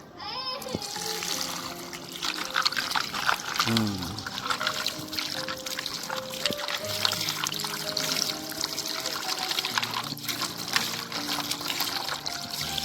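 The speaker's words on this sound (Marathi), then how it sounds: "चरचरीत धुवून घेवंक जाय पयली, व्हेरी इम्पॉर्टंट" Water pours and trickles outdoors as mussels are washed, a steady splashing stream running throughout with some background speech-like noise.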